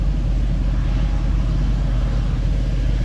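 A white pickup truck drives through a corn field during harvest, its engine a steady, close, loud rumble with no talking.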